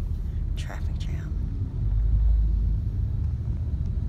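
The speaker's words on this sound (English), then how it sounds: "This is called sitting in a Bangkok traffic jam" Low engine rumble and road noise fill the inside of a vehicle crawling through a Bangkok traffic jam, steady and continuous, with a brief faint whisper-like sound near the start.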